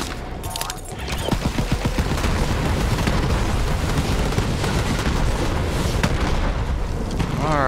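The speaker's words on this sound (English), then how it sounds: "Let's get some grenades going through there." Grenades detonate in Borderlands 3 gameplay, a dense roaring rumble of overlapping blasts and crackling debris that swells after a brief opening and holds loud and continuous to the end.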